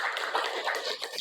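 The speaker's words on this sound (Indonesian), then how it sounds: "Ya, beri tepuk tangan." Brief scattered clapping from a small group of participants at a training session, a short burst of hand claps without voices.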